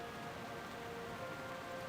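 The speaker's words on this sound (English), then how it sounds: "We're just going to make our way up there through this rain." Steady rain falling in the World of Warcraft Classic game world, a soft continuous hiss with no talk over it.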